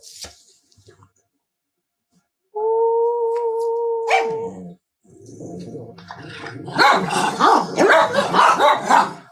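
Pet dogs indoors: a sustained two-tone howl-like whine, then a run of loud close barks and growls, with some human voice mixed in.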